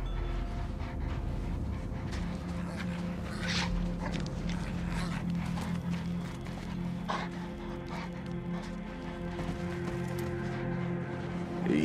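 Dog in the Mad Max video game pants and whimpers over a continuous hum of in-game ambience, close and fairly quiet.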